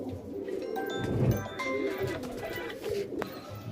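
Pigeons in a rooftop loft, a pair of old-generation Chandrakani Rampuri and shak sabuj birds, give low, soft, repeated coos close by over steady background noise, with no talk.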